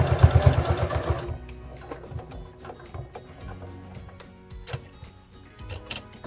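A sewing machine stitches a Velcro strip onto an activity quilt cover, opening with a louder, rapid mechanical run of needle strokes for about a second and then continuing as lighter, intermittent clicking stitches at close range.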